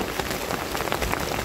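Heavy rain falls during tilapia fishing, a loud, dense, steady patter of drops on surfaces close by with no voices.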